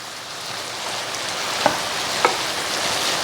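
Shrimp with a splash of lemon juice sizzles softly in a pan while being stirred, a steady low crackle broken by two sharp utensil clicks against the pan.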